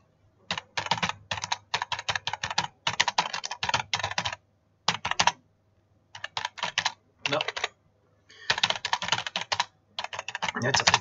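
Steady bursts of typing on a computer keyboard while writing up tasting notes on Mosel Grosses Gewächs wines: rapid clustered keystrokes separated by short pauses, close and clear with no talking.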